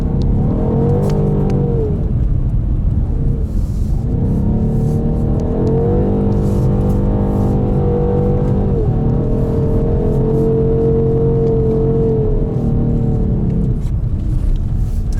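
A 530 hp BMW M850i xDrive Coupé engine accelerating hard from inside the cabin, loud and close, with rising and falling revs across two or three long gear pulls and no talking over it.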